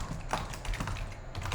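Rapid, quiet computer keyboard typing, with a steady patter of key clicks close by and no voices.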